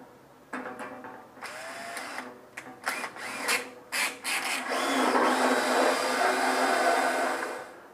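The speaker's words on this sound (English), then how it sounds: "I'm going to do that using a wooden dowel and this drill" A power drill whirs in short bursts, then runs steadily for several seconds with a rough, grinding tone as it spins a quarter-inch wooden dowel, fairly close, during bandsaw restoration.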